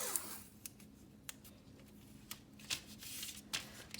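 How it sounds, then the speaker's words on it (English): Washi tape being pulled and pressed down to secure a sheet on a baking tray, a series of quiet crisp rips and taps spaced irregularly over a faint steady hum, close and soft, no speech. "I'm just going to tape this down just with a little bit of washi tape."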